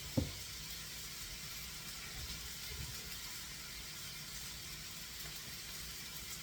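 Pork butt steaks sizzle on a grill with a steady, faint hiss throughout, and a single small knock near the start.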